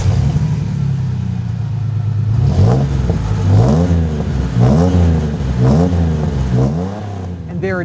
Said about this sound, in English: I love that low, throaty rumble that we get from this DynoMax system.